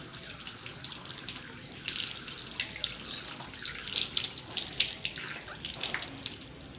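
Tap water runs steadily while hands are rinsed under it, a soft continuous splashing with small irregular spatters and no voices.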